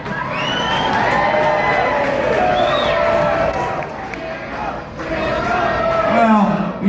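A concert crowd at a rockabilly show cheers and whoops loudly, with shouts and voices rising and falling in waves, briefly dipping before surging again.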